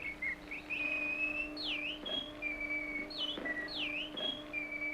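A bird chirps and calls in clear whistled phrases, with sliding notes and sustained tones repeating twice over soft background ambience, alone without talk.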